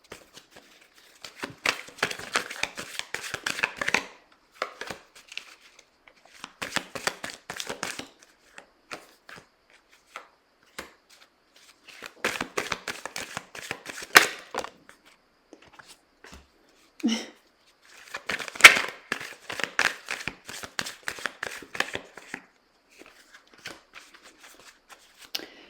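Tarot or oracle cards are shuffled in repeated bursts of crisp riffling and slapping, close up, with short pauses between the bursts and faint speech now and then.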